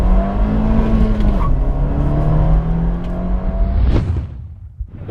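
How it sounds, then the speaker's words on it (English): An Abarth 124 Spider GT accelerates hard toward 100 mph, its engine note climbing loudly through the revs with a brief dip like a gear change before a sharp burst and sudden cut-off at the end. "the first thing that I'm doing in the 124 GT will be to spank it at 100 miles an hour"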